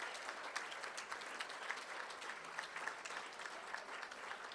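A round of applause from the audience at a school board meeting: steady, evenly textured clapping that sounds somewhat distant and fills the whole moment without a break.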